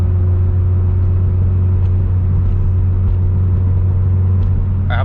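A turbocharged Toyota GT86 on a wet road hums with a loud, steady low engine drone from inside the cabin, constant rumble with little change in pitch.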